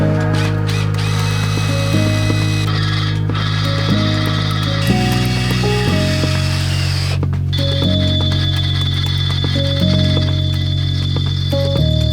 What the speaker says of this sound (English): So let's get right to drilling and mounting these up.